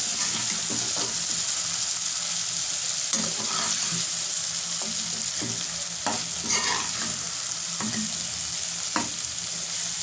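Rawas fish frying in a pan after being flipped: a loud, continuous sizzle with scraping and stirring clatters scattered throughout, with no voices.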